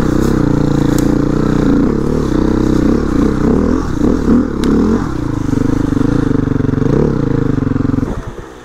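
A Beta 480RR dirt bike rides a tough mountain trail, its engine droning loud and close throughout with revs rising and falling over rough ground, clattering and scraping along before the sound cuts off near the end.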